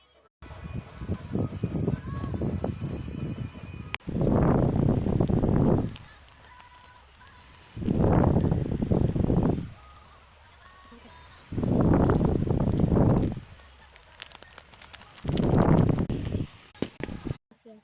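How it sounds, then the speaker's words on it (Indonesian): An electric fan thumping close to the microphone in loud, rumbling bursts of about two seconds each, four or five in a row, with quieter gaps between them. "kalau ada suara dugu-dugu itu tuh suara kipas angin"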